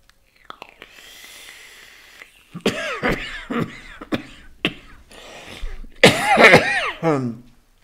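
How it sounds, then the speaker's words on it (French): A series of harsh, rasping coughs and throat-clearing bursts, close and loud, coming in uneven clusters with short pauses between them. "bien évidemment, eh ben, je tousse"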